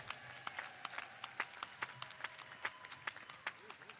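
Scattered, sparse clapping from a commencement audience, faint and distant, with individual claps standing out in an uneven rhythm rather than a full roar.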